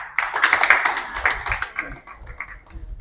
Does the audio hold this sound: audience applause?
yes